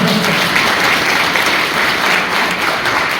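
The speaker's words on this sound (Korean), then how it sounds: "박수 한번 주세요" A lecture audience at an invited talk breaks into loud, full applause. The clapping is dense and sustained at a steady level for the whole stretch.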